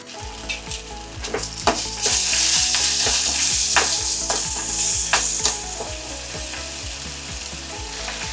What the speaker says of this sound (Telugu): ఇది కొంచెం పచ్చివాసన పోయేలాగా వేయించాలన్నమాట